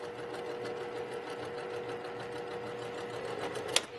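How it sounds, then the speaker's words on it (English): A sewing machine stitches a quilt seam in a steady, fast mechanical whir with a rapid even needle rhythm, close by and moderately quiet, ending with a brief sharp click. "Take your time and sew a real nice straight line."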